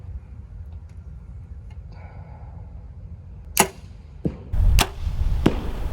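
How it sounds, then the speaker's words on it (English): Arrows are shot from a bow at a balloon target outdoors, with a few sharp, sudden snaps and thuds standing out from a quiet background hiss. "So I'm gonna shoot 3 arrows anyway"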